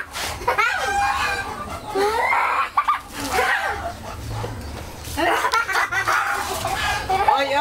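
Chickens cluck and crow nearby in bursts, mixed with people talking and laughing close by.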